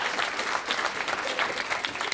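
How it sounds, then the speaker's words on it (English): Steady, dense applause from the audience at an EndoMarch event, sustained and even throughout with no pauses. "Give yourselves a big round of applause."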